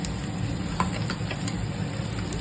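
Bitter gourd pieces frying with a little turmeric in a pan on low flame, a steady close sizzle with faint crackles and occasional soft stirring taps.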